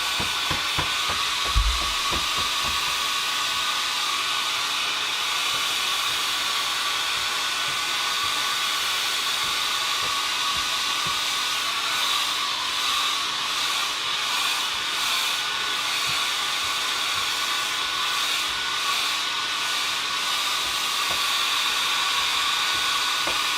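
A hair dryer blows steadily over a watercolour poppy painting covered with cling film, a loud continuous close whoosh with constant hiss, running unbroken throughout.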